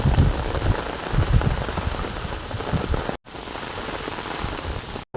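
Heavy rain with wind near a river during crab netting, pouring down in a loud, dense, unbroken hiss of drops on surfaces, cut by two brief silent gaps.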